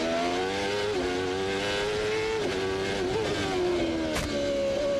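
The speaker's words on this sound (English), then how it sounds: "This is the braking area down to turn 5. Just listen. Down 4 gears. 6th all the way to 2nd." A 1994 CART Indy-style race car at Road America braking hard for turn 5, the engine note held loud and steady with pitch dips as it drops from sixth gear down to second, all alone without any talk.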